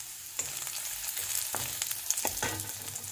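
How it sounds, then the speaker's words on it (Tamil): Curry leaves, small onions and chillies frying in a pan: a steady close sizzle with scattered crackles and several brief spatula scrapes, no talking. "கருவேப்பிலை, இது இப்போ கொஞ்சம் நல்லா ஃப்ரை ஆகட்டும்."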